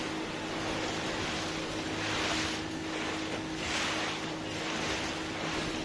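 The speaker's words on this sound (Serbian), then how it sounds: "Sad stani, izbaci iz brzine, ugasi motor." A boat motor runs at sea off Greece while dolphins swim nearby, a steady low engine hum under wind buffeting and the wash of waves against the hull.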